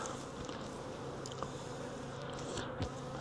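A freshly caught honeybee swarm hums inside the hive, a dense, steady buzz of many bees close by with a few individual bees droning past louder.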